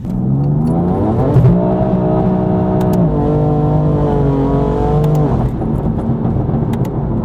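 A tuned BMW F82 M4 accelerates hard on a wet day, its engine note rising through the revs, dipping at a gear change and climbing again, loud and close with no talk.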